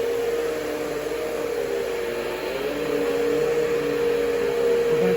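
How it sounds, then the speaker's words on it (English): A vacuum cleaner runs over an apartment floor with a continuous, even motor drone and airy hiss that swells slightly partway through, heard close and alone without talk. "I'm gonna vacuum this area."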